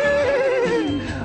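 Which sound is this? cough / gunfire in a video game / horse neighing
horse neighing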